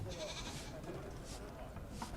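Goats and sheep kept as livestock aboard a sailing ship in Assassin's Creed III bleat faintly amid steady background ambience, with a voice talking over them throughout.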